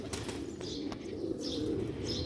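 Sialkoti pigeons of the original chuha breed coo softly and continuously at close range, with light chirps and a wing rustle or two over a steady low murmur.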